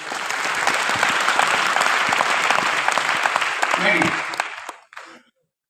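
An audience gives a burst of dense, continuous clapping that holds steady for about four and a half seconds before quickly dying away, with a few last claps trailing off.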